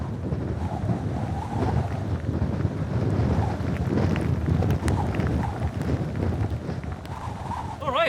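Strong wind buffets across a cold, wet moorland during an ultramarathon course, a continuous low roar with gusty rumbling that holds steady throughout.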